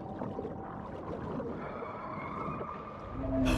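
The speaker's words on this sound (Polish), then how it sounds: "Kaszalot spermowaty!" Sperm whale call in the underwater video game Maneater, a drawn-out tonal moan over a murky watery rumble, steady and fairly loud, with a swell of noise at the very end.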